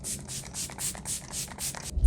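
Makeup setting spray hisses out in a rapid series of about eight short bursts, close and fairly loud, with no one talking.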